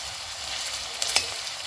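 Onions frying in a pan, a steady close sizzle with a couple of short stirring scrapes, no voices.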